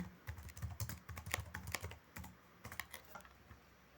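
Quick bursts of typing on a computer keyboard as data is entered, with close, crisp key clicks in uneven runs and a short pause before the tapping resumes.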